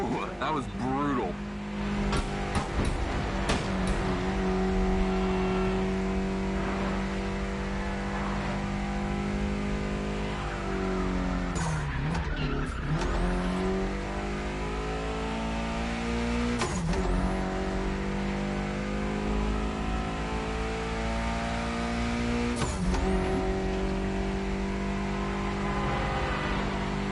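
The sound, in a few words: Mitsubishi race car engine revving, skidding in The Crew Motorfest video game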